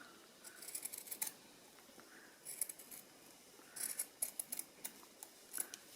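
Scissors snip through fabric in short close bursts of crisp cutting, several quick clusters spread across a quiet background.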